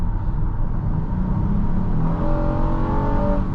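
A 2024 Honda Odyssey Touring minivan engine pulling under acceleration, a steady, fairly loud interior drone with the pitch climbing toward the end, no voices.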